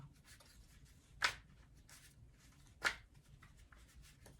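Tarot cards are shuffled softly up close with light rubbing and riffling, and two sharper bursts of shuffling stand out, with no voices.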